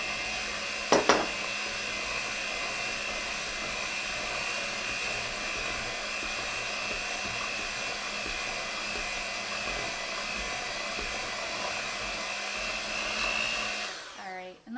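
An electric mixer whirs steadily at close range through pumpkin bread batter, a constant motorized drone with a brief clatter near the start before winding down at the end.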